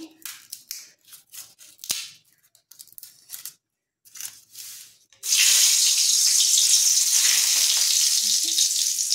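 Bay leaves dropped into hot oil set off a sudden loud, steady sizzle that runs to the end, after a stretch of scattered kitchen clatter and clicks.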